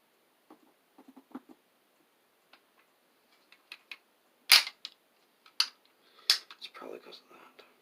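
A toy cap gun flintlock musket is handled with soft clicks and taps, followed by one sharp, loud cap pop and then a few more snappy cracks and rustles, with speech at moments.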